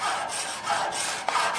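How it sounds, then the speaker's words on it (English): A metal or glass scraper is drawn along the edges of a wooden steer and oxen stick, giving a dry raspy rubbing in quick repeated strokes, close and alone. "we're going to use is some type of scraper"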